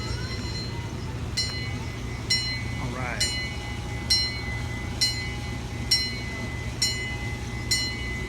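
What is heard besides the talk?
zoo train Titus Express arriving at Dickerson Park Zoo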